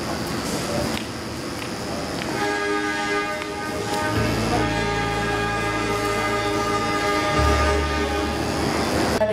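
The Argo Lawu passenger train rumbles steadily as it pulls into a station in Yogyakarta, Indonesia, with a low horn sounding twice and a faint voice in the background.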